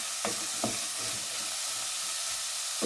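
Chopped carrots and celery sizzle steadily in a pot for minestrone soup, a soft, even frying hiss broken by a few light scrapes and clicks of stirring, faint and close with no talking.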